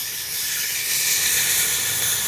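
Steam hisses steadily and loudly from a pot of chicken rice on the stove, a broad airy rush with no talk over it.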